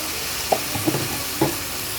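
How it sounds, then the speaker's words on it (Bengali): Spice masala frying with a splash of water for mutton curry, a soft steady sizzle and hiss with a few faint stirring knocks, close and alone. "আর এখন জল দিয়ে খুব ভালো মতো এই মশলাটাকে আমি কষাবো"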